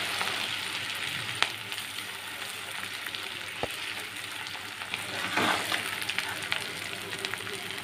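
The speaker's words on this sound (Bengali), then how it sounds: "আলুগুলো একটু লাল লাল করে সুন্দর করে ভেজে নিয়ে তারপরে তুলে নেব" Potato pieces with salt and turmeric fry in oil until reddish, crackling in a steady, dense sizzle up close, broken by a few light clinks and a brief louder surge.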